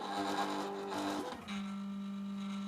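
Silhouette Cameo cutting machine scanning for registration marks, a steady mechanical whir with tonal motor hum that shifts pitch partway through, then settles into a constant drone.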